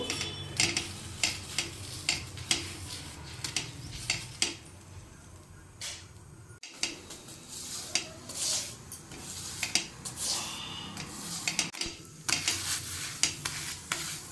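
A wheat-flour pizza base is flipped and moved in a pan on a griddle, giving repeated scraping and clattering utensil knocks over a soft sizzle, close and irregular, with brief pauses and no talking.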